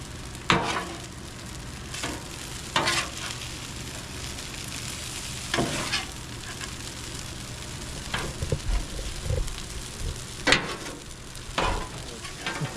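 Eggs sizzle on a Blackstone griddle in a constant frying hiss, broken by sharp spatula scrapes and taps at irregular intervals, close and steady, with no one speaking.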